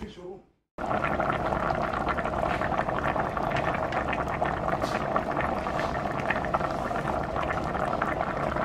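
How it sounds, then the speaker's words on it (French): A covered pot of broth with dried mushrooms, smoked fish and caterpillars boils steadily, a dense continuous bubbling and hiss that starts abruptly after a brief voice and carries on alone. "On referme sa marmite et on laisse bouillir."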